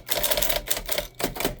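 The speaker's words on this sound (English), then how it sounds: "Love the sound of that shift." The first portable electric typewriter, an early electric machine, clacks and thumps through its shift and typing mechanism in a rapid cluster of mechanical hits and whirs, loud and close, with no talking.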